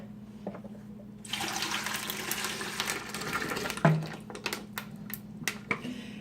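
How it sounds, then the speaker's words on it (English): Liquid is poured into a container, a steady rushing splash that starts abruptly, runs for several seconds and tapers off into a few faint drips and clinks in a quiet room. "what I'm going to do is I'm just going to pour it into here"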